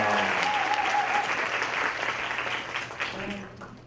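Audience applause welcoming a speaker to a mentoring talk concert, a steady wash of many hands clapping that fills the room and slowly thins toward the end.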